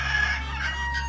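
Small Old English Bantam chicken on a farm gives short clucking and crowing calls, close and fairly clear over a steady low hum, with no talk.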